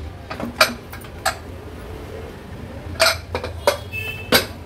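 Lid of a cooled pressure cooker being opened in a home kitchen, giving a series of sharp metallic clicks and clinks at irregular intervals over a quiet background.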